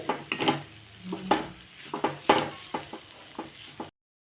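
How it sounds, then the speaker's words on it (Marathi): Bitter gourd sautéed with Maggi masala and chutney, with repeated stirring scrapes and clinks of a spoon against the pan over a soft sizzle, in short bursts for about four seconds before falling silent. "हे जे मॅगी मसाला आणि चटणी टाकली मी तिला आपण परतून घेऊ"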